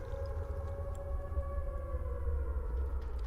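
A nuclear warning siren drones steadily from the game Fallout 4, a sustained wavering tone over a low rumbling background, with no talk.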